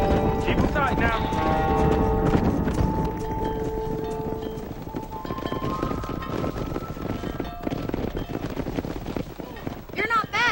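Horse hooves clip-clop steadily at a run while herding cattle in the video game Red Dead Redemption, loud and continuous under a music score and wind, with characters talking over it.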